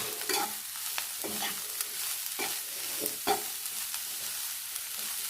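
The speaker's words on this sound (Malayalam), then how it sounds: "ഇതിലേക്ക് നമ്മുടെ ചക്ക കുടഞ്ഞിടുക, എന്നിട്ട് ഇളക്കി കൊടുക്കുക." Jackfruit being stirred in a pan for a Kerala-style chakka thoran, with repeated scraping strokes of the spoon over a steady low sizzle, close and alone with no voices.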